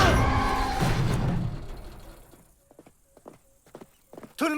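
Horse hooves clip-clop in a steady walking rhythm as a cartoon stagecoach pulls up to a stop, clear and close after a louder stretch of rumbling and voices.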